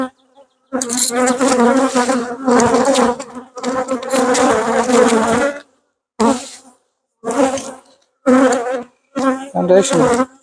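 Honey bees buzz loudly and close by around a hive during an inspection, in intermittent bursts, droning on and off with short silent gaps between passes.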